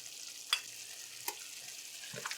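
Hot tempering with roasted ground jeera sizzles softly as it is poured into a pot of dal, giving a few small crackles and pops over a low, steady frying hiss, alone and close by.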